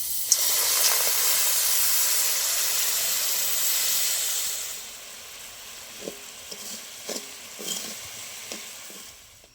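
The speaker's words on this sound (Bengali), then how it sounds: "অল্প পরিমাণে জল দিয়ে দেবো" Water hits sugar in a hot pan while caramel is being made. A loud, dense sizzle and hiss erupts, holds for several seconds, then dies down to softer bubbling with a few faint stirring clicks.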